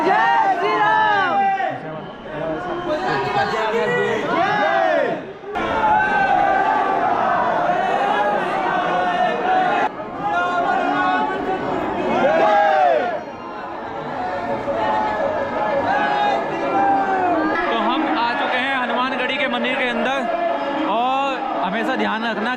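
Busy crowd chatter at a crowded temple gate in Ayodhya, a steady hubbub of many overlapping voices with a few brief dips and swells, close and fairly loud.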